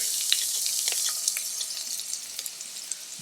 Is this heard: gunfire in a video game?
no